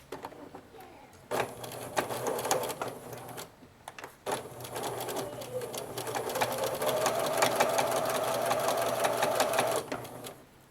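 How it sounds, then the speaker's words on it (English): A sewing machine top stitches a boxer brief seam, running in fast rapid bursts with brief pauses, then settling into a longer steady whirring run at close range. "stitch as close to the seam as you can"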